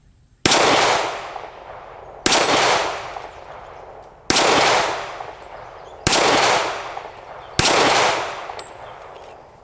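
.45 Auto and .357 Magnum handguns fire five single shots outdoors, each a sharp loud crack with a ringing decay, spaced about two seconds apart.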